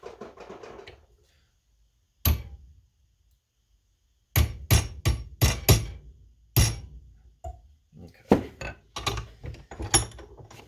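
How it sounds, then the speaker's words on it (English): Sharp metallic ball peen hammer taps gently driving a pin out of a Penn fishing reel, one alone after a pause, then bursts of quick strikes in uneven clusters, close and crisp with quiet gaps between. "take a small little hammer of some kind, little ball peen hammer, works fine, and just tap that pin out"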